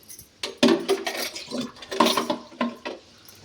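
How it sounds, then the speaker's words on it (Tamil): Water being poured into a pot in a kitchen, short splashing gushes with clinks of the metal vessel, loud and close, in a few separate bursts. "இந்த குடத்தில் வந்து தண்ணி ஊற்றிக்கலாம்"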